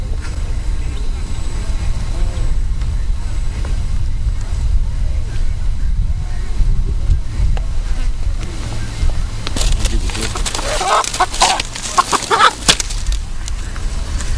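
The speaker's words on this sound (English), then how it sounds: "The husband, Abanaji, takes out 2 chickens and gives them to the chief of Terra, who is in charge of the village." Chickens cluck and squawk near a low, steady engine-like hum during a house-building ceremony in an African community, with a burst of agitated flapping and squawking toward the end; people talk intermittently.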